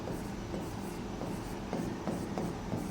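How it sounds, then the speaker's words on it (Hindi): Pen or marker writing by hand on a board, a steady scratchy stroking with short strokes and brief pauses, close and alone without talk. "हिंदी में भी लिख देती हूँ"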